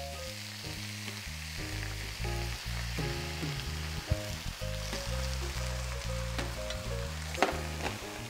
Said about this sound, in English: I'm gonna saute all these vegetables.